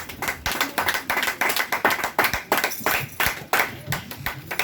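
A church congregation claps together in praise during a worship service, a steady rhythmic clapping of many hands, close and lively.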